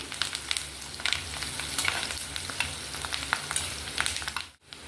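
Onions frying in a pan for a spicy mutton curry, giving a steady, soft close sizzle with occasional crackles and a brief stir, fairly quiet throughout.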